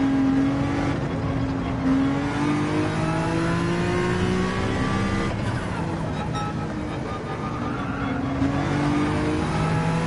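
A GR3 race car in Gran Turismo 7 screams at high RPM, its engine note rising and falling through gear changes and throttle lifts, loud and continuous with a steady whine throughout.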